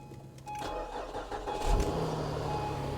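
A car's engine starts with a push button after a suspected dead battery: a starter whir, then a catch into a steady, fairly quiet idle, heard close with no talking.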